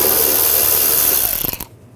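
Ratchet turning an 8mm socket to loosen an airbox clamp on a 2008-2012 Jeep Liberty 3.7L V6, a brief close burst of clicking that ends in a few sharp ticks.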